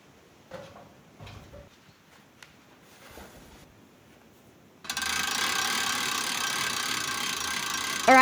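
A ratcheting winch on a pulley system set up to lift a timber post gives a few sparse mechanical clicks. Then a loud, steady whirring mechanical noise takes over and runs to the end.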